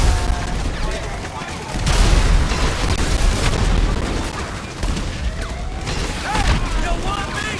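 In GTA 5, repeated booming bomb blasts and crackling bursts, loud and close, overlap with dense game effects and a continuous noisy background.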